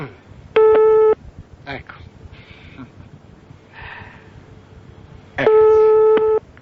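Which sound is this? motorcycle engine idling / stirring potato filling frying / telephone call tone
telephone call tone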